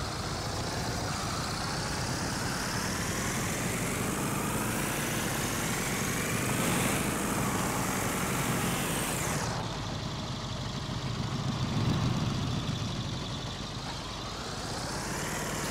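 A motorcycle engine idles in the survival game DayZ, a steady, continuous rumble that holds close throughout with a slight shift in tone partway.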